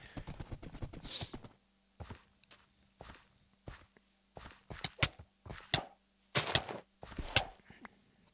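Horse hooves clop in the game Minecraft, with irregular clusters of close hoofbeats broken by short pauses.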